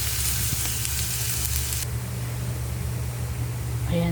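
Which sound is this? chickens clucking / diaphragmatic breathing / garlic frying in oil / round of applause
garlic frying in oil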